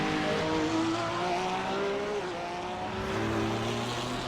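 GT3 race cars, Ferrari and Porsche, roar around Circuit de Ledenon with loud, sustained high-revving engine whines that shift pitch through gear changes, close and continuous.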